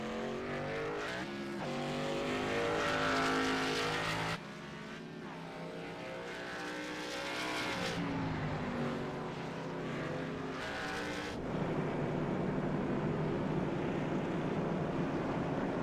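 The number 8 Budweiser race car and other race cars roar past on track, each engine a loud, rising and falling whine that swells and fades several times in succession, with no one speaking.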